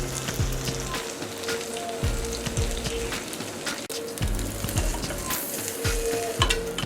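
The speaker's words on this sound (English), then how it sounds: "then place it on the skillet. We're gonna let it cook for about 2 minutes or so on each side" Chocolate French toast cooks on a hot skillet with a steady, close sizzle like light rain, broken by occasional soft taps and shifts.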